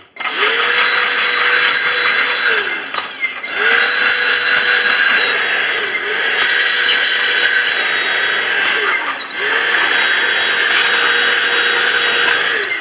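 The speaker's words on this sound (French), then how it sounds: "Vous mettez un coup d'aspirateur à l'intérieur." A vacuum cleaner sucks dust and pet hair out of the ventilation holes of an always-on internet box. It gives a steady close whine with a high tone and airflow hiss, broken by short dips as the nozzle moves, in three long passes.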